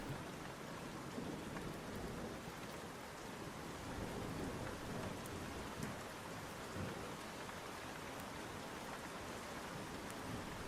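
A rainstorm pours steadily with a dense, even hiss of falling rain and low, soft rumbles of distant thunder rolling underneath throughout.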